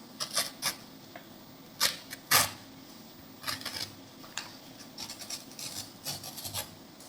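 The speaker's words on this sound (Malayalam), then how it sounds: "അത് നമുക്ക് ഒന്ന് കട്ട് ചെയ്തെടുക്കാം." Paper is cut for a DIY back-to-school to-do list, with short close rasping strokes in irregular bursts separated by quiet gaps and no talk.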